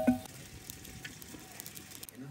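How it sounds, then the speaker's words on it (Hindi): Soft, low sizzling of onions frying in ghee, a gentle crackle with scattered small pops, fairly quiet and close. "प्याज को हल्का सुनहरा होने तक भून लेंगे"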